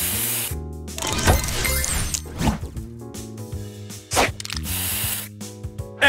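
Spray booster effect from the Match Masters puzzle game: a sharp hissing spray burst among layered chiming, whooshing game sounds and bright musical tones, loud and busy with several abrupt hits.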